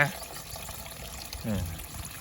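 Water sprayed under pressure onto a rusty, dirty excavator radiator, a steady hiss with a brief louder splash midway, heard fairly close.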